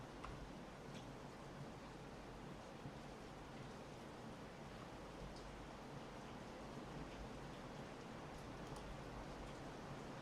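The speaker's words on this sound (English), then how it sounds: "Do you find this rain relaxing?" Steady rain falls in a constant, even hiss of broadband noise, soft and unbroken throughout, with a faint low rumble beneath and no voices.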